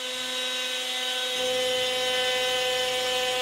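A CNC router runs an area-clearing pass, cutting a shallow layer into the centre of a board. It makes a loud, steady high-pitched whine with strong tonal harmonics, and the motor tone deepens as the bit bites in, with no voices.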